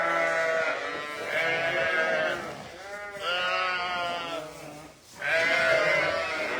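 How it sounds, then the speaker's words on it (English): January lambs on a farm bleating repeatedly, several loud wavering calls close by with short pauses between them. "these are the January lambs, which are very frisky indeed"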